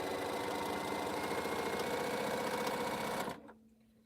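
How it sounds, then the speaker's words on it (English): A sewing machine stitches a quilt's half square triangle in one steady, fast mechanical run that stops abruptly just before the end, leaving a faint hum, with no voices. "All right, so I'm going to just sew another half square triangle"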